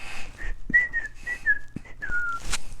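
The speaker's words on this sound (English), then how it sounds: "did you like that whistle?" Someone whistles a short wavering tune indoors, clear and close, with a few soft knocks and a brief breathy burst at the end.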